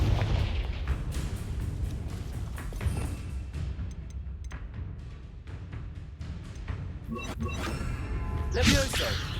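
Spell combat in Hogwarts Legacy, with a Confringo fire spell exploding among booming impacts and rumbling blasts, loud and layered, ending in a bright crackling burst, with a voice shouting over the action.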